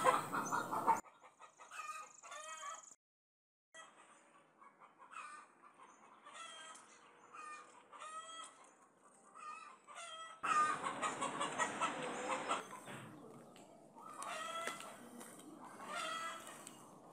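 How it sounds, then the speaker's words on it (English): In a village backyard, a rooster crows and hens cluck repeatedly, with rhythmic clucking bursts and louder crowing stretches at close to middle distance, no talking over them. "Cock and hen are crowing."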